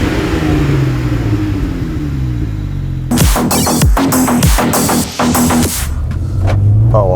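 A BMW 1M car's engine running, cold: a low engine throb close by, then a series of sharp, loud revving bursts and blips with brief pauses between them, no talk.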